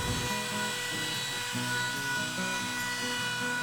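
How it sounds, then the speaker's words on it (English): Router fitted with a 1/16-inch round-over bit cutting the edges of wooden fence pieces, giving a loud, continuous high whine with a shifting, pulsing pitch as the bit runs along the wood. "and then I round over the edges with a 1/16 inch round over bit."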